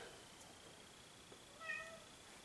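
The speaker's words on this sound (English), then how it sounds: "Oh, here comes Studio Cat." A cat meows a couple of times nearby, short tonal cries rising over a quiet room hum.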